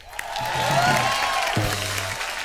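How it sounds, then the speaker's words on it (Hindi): Dense television comedy show studio audience applause swells and holds steady, many hands clapping at once, with a low musical tone sounding beneath it. "जोरदार तालियां बजाओ"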